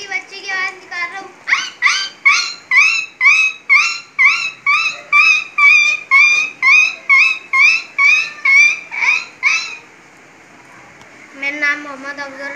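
A voice imitates a puppy with a rapid run of about fifteen high, rhythmic yelps and whimpers, close and clear, then a brief pause and a few more cries.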